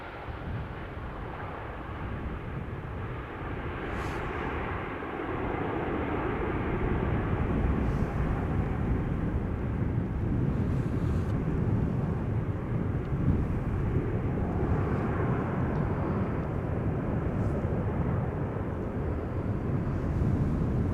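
A Qatar airliner arriving at Amsterdam Schiphol Airport, a broad, steady jet roar that swells and holds loud for the length of the pass, with no voices.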